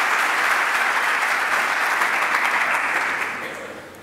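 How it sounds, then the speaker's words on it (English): Loud, sustained applause from a crowd at a Java developers' meetup, a thick wash of clapping that holds steady and then begins to taper off near the end. "So please give it a big applause for all of them"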